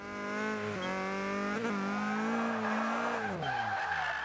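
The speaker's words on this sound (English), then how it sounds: "Changing into fourth without lifting off the throttle." A Scion tC drift build in the Forza 5 racing game slides through a drift with tires squealing, the engine howling steadily, then a gear change with a dip and rise in revs, loud and continuous without talk.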